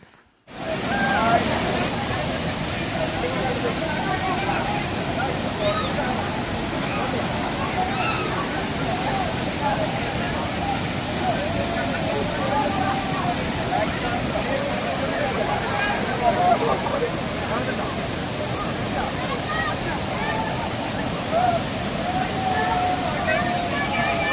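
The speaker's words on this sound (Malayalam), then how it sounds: "ഹരിതീർത്ഥക്കര വാട്ടർഫാൾസ് ആണിത്" The Harithirthakkara waterfall at Churalmala roars in a continuous, loud, broadband rush with steady churning and splashing, holding unbroken throughout with no voices.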